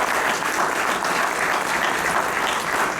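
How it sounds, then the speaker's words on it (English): Dense, steady audience applause fills a hall at a certification ceremony for emergency medicine graduates, sustained and loud throughout with no pauses. "You must give yourself a round of applause"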